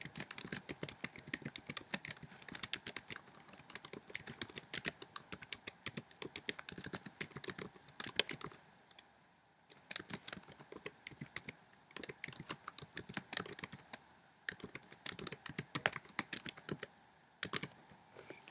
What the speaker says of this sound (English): then I will try to type it again